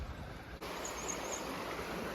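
A waterfall pours down near a beach walk, giving a steady, continuous rush of falling water that stays fairly loud and even throughout, with no talking.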